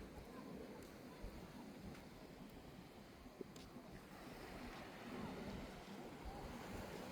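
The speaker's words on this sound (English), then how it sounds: "Some cold water coming in." Surf washes onto a black-sand beach at Playa Ocotal, Costa Rica, a soft continuous rush of waves with wind buffeting the microphone, fairly quiet and steady throughout.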